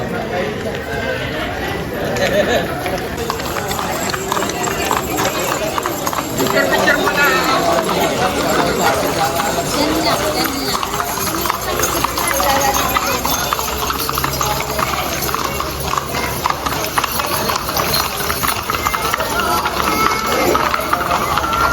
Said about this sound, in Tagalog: Yun yung mga kabayo, mga nakaparada pa.